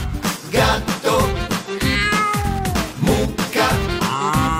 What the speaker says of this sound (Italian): gatto,